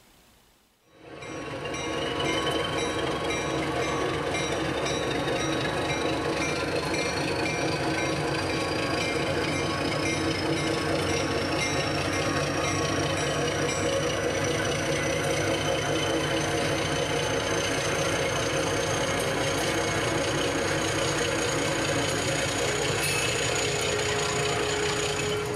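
HO scale model train on an Erie Lackawanna Railroad layout, running with a continuous rattling, clicking rumble that starts abruptly and holds steady and loud throughout, with a faint rising whine.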